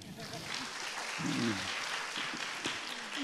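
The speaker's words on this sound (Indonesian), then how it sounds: "makasih tepuk tangan dulu buat MC dong" An audience claps for the MC at an event, a moderate spatter of applause mixed with someone talking over it.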